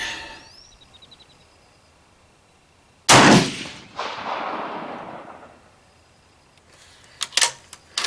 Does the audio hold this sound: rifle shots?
yes